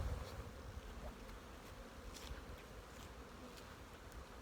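Honey bees swarm around a pig pen where sugar syrup has been set out, a steady close buzzing hum with individual bees passing near and away.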